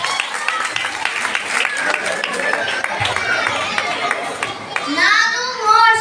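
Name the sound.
applause for Moses at a children's performance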